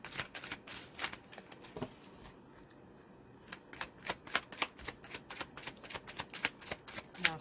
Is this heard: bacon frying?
no